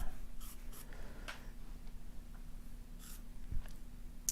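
A pencil moving across paper while drawing a portrait, making soft scratchy strokes in short bursts with pauses, quiet and close over a low background hum.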